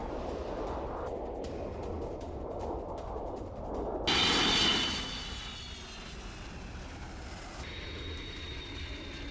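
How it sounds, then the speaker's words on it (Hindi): A-10 attack aircraft and tanker planes take off, a steady jet roar and rumble that swells into a louder surge midway before settling back to a continuous drone. "12 A-10 attack aircraft middle east के लिए रवाना हो गए"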